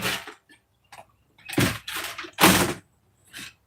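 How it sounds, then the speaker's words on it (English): A front door at home is opened with a series of sharp clicks and latch rattles followed by several louder bursts of handle and door movement, close by with short pauses between them. "It only takes a second to open the front door."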